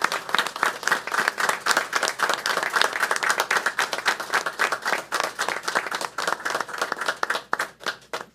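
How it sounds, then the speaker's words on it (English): A standing audience at a school board meeting applauds four families who served Richland 1, brisk continuous clapping from many hands that stays strong and then tapers at the close. "give a round of applause to these four families that have served Richland 1"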